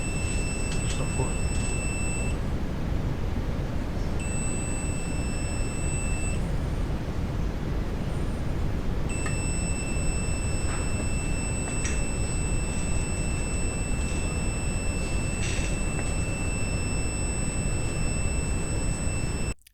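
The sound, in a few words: float switch high-level alarm buzzer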